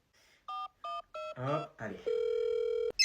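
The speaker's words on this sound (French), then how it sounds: "comme ça j'appelle mon téléphone avec le tien" Three short dialing tones beep in sequence, brief speech follows, then a long steady ringback tone sounds until a click at the end.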